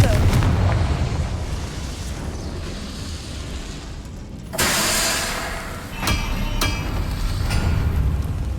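A Confringo blasting spell from Hogwarts Legacy erupts in a sudden bright burst midway, then sharp crackling pops follow, all over a constant low rumble of game ambience.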